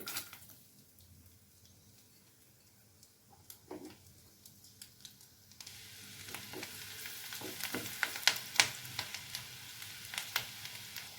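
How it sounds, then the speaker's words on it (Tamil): Garlic fries in a pan for butter garlic chicken, starting as a faint low sizzle and building into louder crackling, spitting bursts toward the end, with no voices. "இதில் பூண்டு போட்டுக்கிறேங்க."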